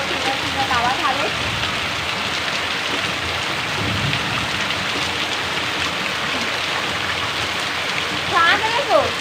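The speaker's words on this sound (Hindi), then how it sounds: "पूरा जबरदस्त पानी गिरा थावे एकदम झमाझम" Heavy rain pours into a courtyard in a dense, steady roaring hiss that runs throughout, with faint voice-like sounds briefly at the start and end.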